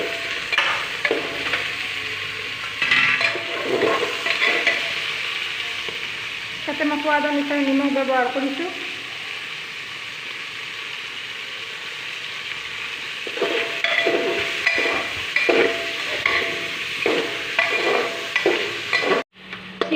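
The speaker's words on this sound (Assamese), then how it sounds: "মাংসখিনি ভাজি ল'ম।" Chicken pieces frying in a pan for a home-cooked curry, a steady sizzle with occasional stirring, heard close up under a person talking almost throughout.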